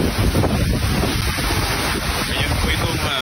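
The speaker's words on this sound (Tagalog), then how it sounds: "Halos hindi na makita ang kapalibutan sa lakas ng ulan at lakas ng hangin." Typhoon Uwan's strong wind and heavy rain in Baras, Catanduanes, under signal number 4: a dense, constant roar of gusts buffeting the microphone and rain, loud and unbroken for about three seconds.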